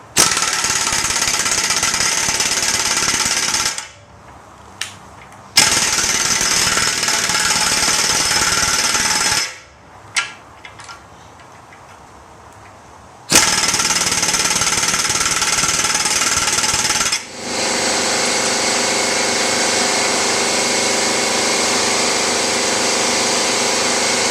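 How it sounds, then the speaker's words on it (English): Impact wrench driving a press to install a lower ball joint on a Chevrolet S10, with loud close rapid hammering bursts several seconds long separated by short pauses, ending in a long continuous run. "Make sure you have this centered on the bottom of that ball joint"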